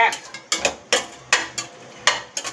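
A metal spoon scrapes and taps repeatedly against a pot while tomato rice is scooped out for serving, a close, uneven series of clinks and scraping strokes.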